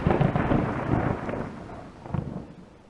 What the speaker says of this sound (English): These thunderstorms. Is that what you hear every night?